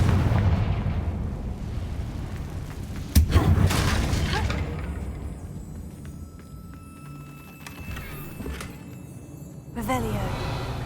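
Confringo fire spell from Hogwarts Legacy booms with a sharp blast after a few seconds of rumble, then a fading tail and another burst near the end. A voice speaks briefly.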